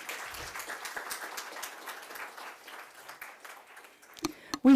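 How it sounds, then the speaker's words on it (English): An audience claps at the grand opening of a new meditation museum, a soft, continuous patter of many hands that slowly thins out. Brief voices and a louder sound break in at the very end. "let's have a round of applause, ladies and gentlemen."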